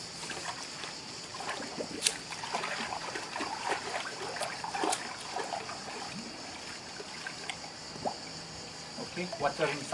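Water trickles into a pool filter, a continuous soft splashing and bubbling with scattered small drips, close and steady, while people talk quietly underneath.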